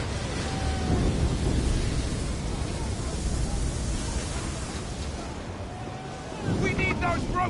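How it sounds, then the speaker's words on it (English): Stormy sea in the Assassin's Creed 3 video game: steady roaring wind and crashing water fill the scene continuously, with a faint creaking tone now and then and surges of rumble near the start and end. "You wish us to sail into the storm?"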